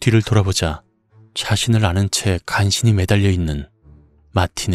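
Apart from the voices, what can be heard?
No distinct noise like a dog, phone or traffic.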